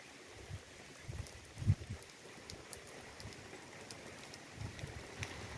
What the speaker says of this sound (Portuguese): Chuva molhando o asfalto aí.